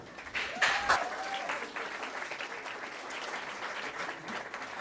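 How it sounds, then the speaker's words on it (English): Applause from a room at a journalism and PR awards ceremony, following a played video, swells quickly into a moderate, fairly distant crowd clapping that holds steady and thins slightly toward the end, with a brief voice near the start. "It sounded like there was an ironic round of applause at the end of the actual video."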